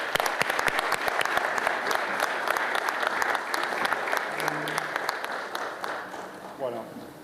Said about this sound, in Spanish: Así que, Manuel, te recibimos con un fuerte aplauso.